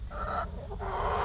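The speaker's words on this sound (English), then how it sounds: "here we are with a new flock of chickens" A new backyard flock of hens clucks close by, short soft calls rising and falling in quick bursts over a steady low background.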